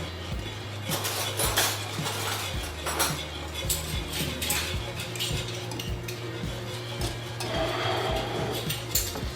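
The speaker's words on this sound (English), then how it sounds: "Do you want to get the wee teaspoons out of that" Small metal teaspoons are gathered and taken out in a kitchen, giving repeated close, bright clinks and rattles in irregular bursts over a low steady hum.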